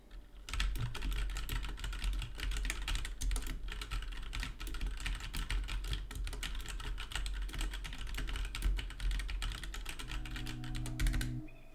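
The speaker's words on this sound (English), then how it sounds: "let's bang on the keyboard and see what we get" Rapid, continuous clacking of a computer keyboard being hammered on, loud and close, with no pauses for nearly twelve seconds, recorded through a Razer Seiren V2 X microphone.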